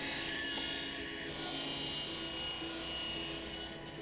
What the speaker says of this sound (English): Rip it on the rip saw.